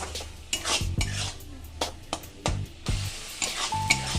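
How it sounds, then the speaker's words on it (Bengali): A metal spatula stirs coriander and chili powder as they sauté in a pan, giving a series of clanks and scrapes with a faint sizzle between them. "ধনের গুঁড়ো আর লঙ্কার গুঁড়ো এটা দিয়ে আমি একটু কষিয়ে নেব"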